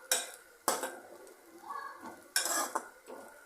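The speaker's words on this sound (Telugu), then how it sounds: "చూడండి, కాకరకాయ ముక్కలు ఫ్రై అవుతున్నాయి." Bitter gourd pieces frying in a pan, with a few sharp clinks of a utensil stirring and scraping against the metal over a faint sizzle, close and fairly quiet.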